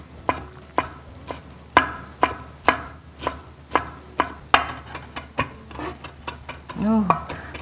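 Parsley being chopped with a knife on a board for a vegan brown-rice tteokbokki, steady sharp knocks in an even rhythm, with a brief stir and faint sizzle of the simmering pan near the end.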